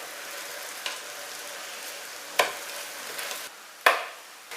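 Pressed okara (soy pulp) cakes pan-fry in oil with a soft, steady sizzle, broken by a couple of sharp spatula taps and flips, close by and fairly quiet.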